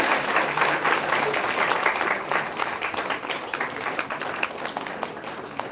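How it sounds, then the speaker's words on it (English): At a moot court competition valedictory ceremony, an audience gives a big round of applause during a felicitation, dense sustained clapping throughout with a faint murmur of voices beneath. "Let's give them a big round of applause."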